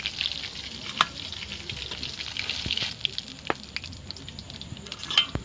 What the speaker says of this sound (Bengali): এগুলো একে একে ভেজে নেব।